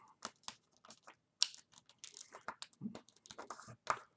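Paper being folded by hand into an origami crane, a series of close, crisp creasing taps and soft crinkles in an uneven rhythm, fairly quiet with no talk.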